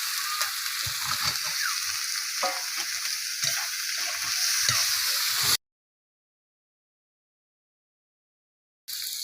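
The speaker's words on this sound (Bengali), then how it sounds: "মশলাটা ভাজা ভাজা হবে তো," Bitter gourd fries in oil with cumin and chili paste, giving a strong, continuous sizzle. Repeated scraping strokes from stirring break through it. The sound drops out to silence near the end, then the frying resumes for a moment.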